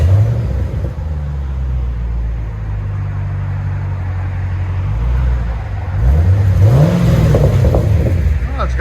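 A 2015 Chevy Camaro SS with a 6.2L V8 on its stock exhaust idles with a deep steady rumble, then is revved twice, the rising and falling engine note swelling near and loud.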